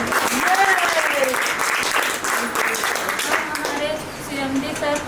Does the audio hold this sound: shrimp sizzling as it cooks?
no